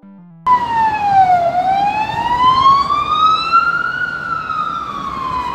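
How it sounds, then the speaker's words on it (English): A police siren wails loud and close, its pitch sweeping down, then slowly rising and falling again over a road rumble. "18 police cars."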